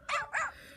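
A virtual dog in the Nintendogs video game barks twice in quick succession, two short, sharp yaps close up with a brief gap between them and quiet afterward.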